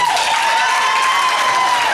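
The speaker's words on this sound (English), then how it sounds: "could you all clap for the audience?" Audience applause for a school group after a stage performance, a steady wash of clapping from a crowd filling the room, fairly loud and continuous with no talk over it.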